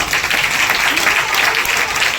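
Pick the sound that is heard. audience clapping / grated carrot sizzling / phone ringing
audience clapping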